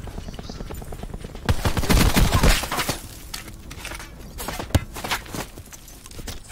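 Gunfire in the video game Call of Duty Blackout on the Alcatraz map, with a rapid burst of shots and further scattered cracks amid game noise, heard under players' voice chat.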